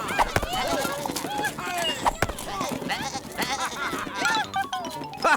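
Cartoon sheep bleat repeatedly in quick succession while hooves clatter beneath them during a ridden chase, with music running throughout.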